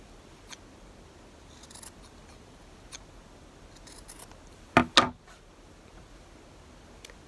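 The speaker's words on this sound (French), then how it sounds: "nous allons couper les coins au ciseau pour que ça fasse des plus jolis coins une fois qu'on aura retourné la lingette" Scissors snip the corners of a sewn fabric makeup-remover wipe, two quick close cuts in succession amid a quiet room with a few faint ticks.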